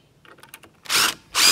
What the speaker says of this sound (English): Don't lean on it too hard. Screw it in.